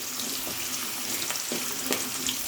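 Chopped garlic and onion fry gently in a pan at home, giving a soft, steady sizzle with a few faint clicks from stirring and no voices.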